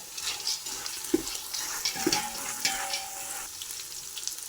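Roasted gram and Byadgi chillies frying in a pan, a soft crackling sizzle punctuated by several sharp clinks and scrapes of a spatula, close and moderately quiet.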